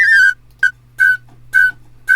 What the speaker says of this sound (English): flutes and flute fills